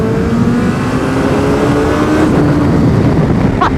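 A turbocharged Suzuki Hayabusa motorcycle pulls hard in third gear, its engine a loud, continuous roar that holds steady with a rising whine throughout, close and unbroken.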